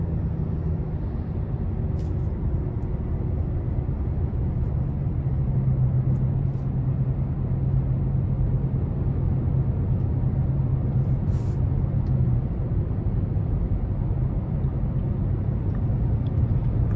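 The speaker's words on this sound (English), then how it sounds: "we're just gonna take this 2022 Nissan Sentra SR Premium out on the road for a quick test drive" A 2022 Nissan Sentra SR Premium driving on the road, heard from inside as a steady low engine drone and tire rumble with a faint humming tone, continuous and unbroken throughout.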